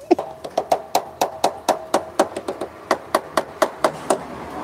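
A rubber mallet knocks repeatedly in a garage while work is done on a Supra motorcycle, about twenty sharp, evenly spaced blows, close and loud, with no talk over them.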